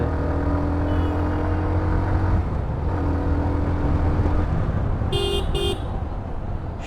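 A Hero Xtreme 125R motorcycle accelerates on a road with a steady, close engine drone that builds slightly, and a couple of short horn toots sound near the end.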